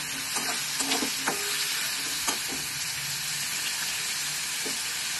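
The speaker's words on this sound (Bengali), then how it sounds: "এবার কুমড়োটার মধ্যে আমি কাঁচা লঙ্কা, নুন, হলুদ দিয়ে দিলাম, দিয়ে একটু নেড়ে দেবো" Pumpkin tossed with green chilies, salt and turmeric in a pan is stirred over a steady sizzle and hiss of frying, with a few light scrapes and knocks of the spoon, close and alone.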